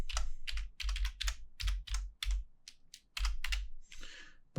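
Keys clatter on a computer keyboard in a rapid, uneven run of sharp close clicks with brief pauses between bursts.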